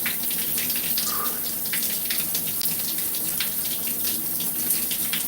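Cold shower water streams steadily, close by, with a dense splashing hiss and scattered droplet spatters throughout and no talking.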